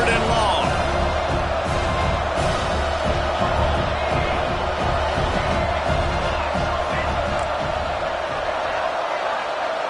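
Stadium crowd at a football game roaring steadily on a third-and-long play, a loud, dense wall of noise that stays constant throughout with no clear breaks.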